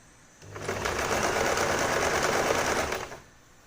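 A sewing machine stitches fabric for a homemade scrunchie, one steady run of close, rapid stitching lasting about two and a half seconds, loud and near, with a quiet start and stop and no voices.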